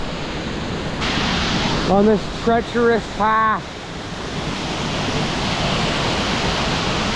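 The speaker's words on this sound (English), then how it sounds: "Day 5, coming up to this waterfall." A waterfall on the Mistassibi river gives off a steady, loud roar of rushing water that fills the whole stretch, with someone speaking briefly over it.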